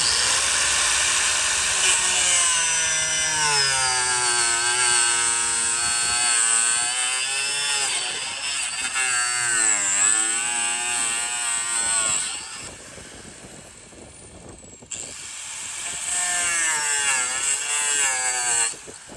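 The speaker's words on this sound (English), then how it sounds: "I'm just letting the grinder do its thing." Angle grinder cutting through a racecar bumper, a loud continuous high-pitched whine that rises and falls as the disc bites, briefly easing off before spinning up again near the end.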